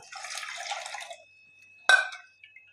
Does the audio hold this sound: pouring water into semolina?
yes